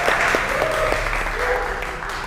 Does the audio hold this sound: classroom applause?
yes